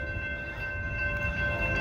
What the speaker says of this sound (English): looks like we got another Capital Corridor train passing by